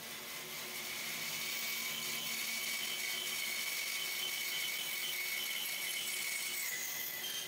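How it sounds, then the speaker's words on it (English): A bandsaw cutting wood for a violin neck in a luthier's workshop, giving a steady high whine with a continuous cutting rasp throughout, no talking. "I'm gonna try to aim the camera for the bandsaw and then we can start sawing."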